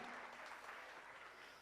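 An audience at a name-reading ceremony applauds in a dense, even wash of clapping, fairly faint and distant, with no voices over it.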